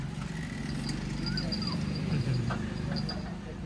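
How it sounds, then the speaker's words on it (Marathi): A pet dog excitedly playing at home makes short whimpers and high yips over a rustling, noisy background, the sounds fairly close and scattered across the moment. "कसं खेळायला लागले लय खुश झाला कुत्रा"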